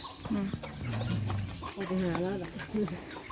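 A laying hen clucks several times close by in short, uneven bursts, with a person talking softly in the background at a temple.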